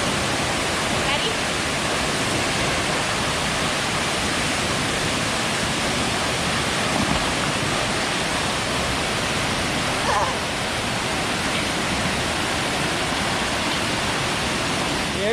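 A waterfall roars steadily and loudly for the whole stretch, a dense, unbroken rush of falling water close by with no pauses.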